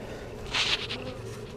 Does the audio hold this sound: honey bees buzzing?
yes